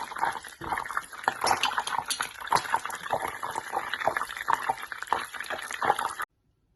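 Butter bubbles and crackles in a pan while chebakia is being made, a busy, wet popping sizzle with clinks of utensils that runs steadily and then cuts off abruptly.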